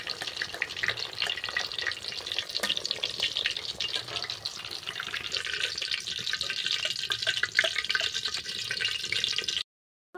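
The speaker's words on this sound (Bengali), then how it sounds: "দেখুন ভাজা হয়ে গেছে কলাগুলো" Plantain pakoras frying in hot oil give a steady, dense sizzle with fine crackling and occasional stirring clatter, close and continuous for about nine and a half seconds before cutting to silence.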